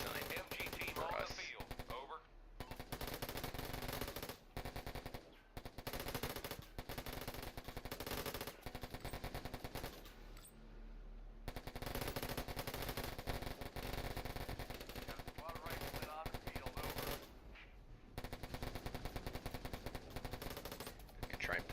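Continuous machine gun fire rattles through a battle in the strategy game Warfare Online, steady overlapping bursts with brief pauses, fairly faint overall and mixed with dense battlefield noise.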